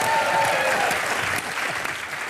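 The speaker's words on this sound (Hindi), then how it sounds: "जोरदार तालियां।" A studio audience at a comedy show in Dubai claps loudly and steadily, the applause easing slightly partway through but continuing throughout.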